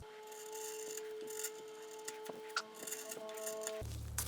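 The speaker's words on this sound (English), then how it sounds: "now let's slice into some end grain" A freshly sharpened chisel slices into wood end grain, producing faint scraping cuts and small ticking contacts over a steady tonal hum, with no talking.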